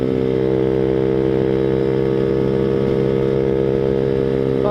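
Small Boom Vader Grom-clone motorbike riding along, its engine buzzing steadily and loudly throughout with a constant throttle drone, close to the listener and with no talking.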